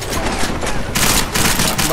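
Gunfire in the video game Deus Ex: Mankind Divided, a dense, continuous burst of loud rapid shots and booms that fills the whole moment, with no pause and no talking over it.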